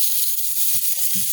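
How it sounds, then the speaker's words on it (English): A steak sizzling in a very hot, almost smoking pan gives a bright, steady hiss throughout the short moment, with faint low thumps beneath it. "Hear that sizzle."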